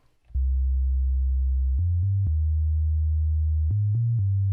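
Sustained synth tone driven through a filter and M-Saturator, a low droning note that steps between a few pitches, rich in harmonics, loud and steady on its own with no talk.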